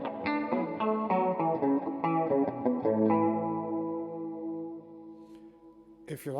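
A short run of guitar notes played through the chorus mode of a Cuvave 9 Type reverb pedal, decay turned up, blurs into a warbling, shimmering tail that gradually dies away.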